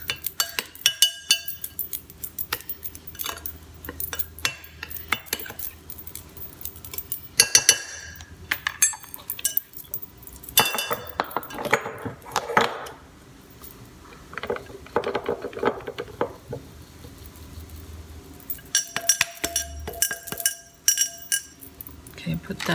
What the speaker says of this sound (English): So I'm gonna give this a good mix.